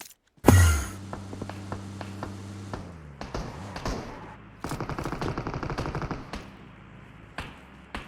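Gunshots in PUBG Mobile: one heavy, booming close shot opens with a long ringing tail, followed by scattered tapping single shots and then a fast automatic burst of rapid cracks, with distant shots trailing off.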